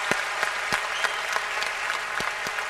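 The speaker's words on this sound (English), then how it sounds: "And the crowd appreciating it." Crowd applause at a 1992 Brussels tennis final between Becker and Courier, with a sharp ball strike popping through at regular intervals, a steady clapping bed under rhythmic hits.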